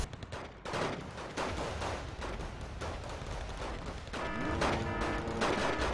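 Bombs striking in a line in the strategy game Wargame Red Dragon, dense rolling booms and crackling blasts that carry on throughout, heavy and continuous, with a louder surge near the end.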